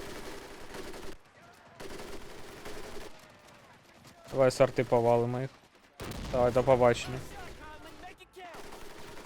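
Rapid bursts of video-game gunfire crackle in short volleys in Medal of Honor: Pacific Assault, Guadalcanal level, with a voice speaking between and over the shots.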